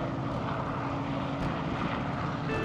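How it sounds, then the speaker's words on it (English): A helicopter passes overhead outdoors, its steady rotor and engine drone continuous and fairly loud throughout with no talking. "A helicopter."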